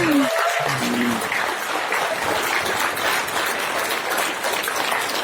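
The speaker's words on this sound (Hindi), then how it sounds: "खड़े होकर के प्लीज एक बार जोरदार तालियां बजा दीजिए।" A hotel ballroom audience on its feet applauds a stage guest with loud, steady, dense clapping that fills the whole stretch, with a brief voice near the start.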